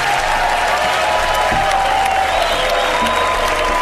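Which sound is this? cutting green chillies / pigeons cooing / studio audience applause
studio audience applause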